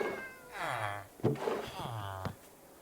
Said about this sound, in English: There's a lot of cats here.